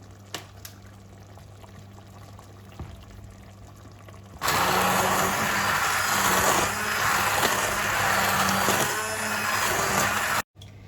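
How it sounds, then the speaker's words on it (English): After a few quiet seconds a blender kicks on abruptly, roaring and churning loudly and steadily through a pot of kufteh sauce before cutting off near the end. "we've changed the pot because we're going to use the blender"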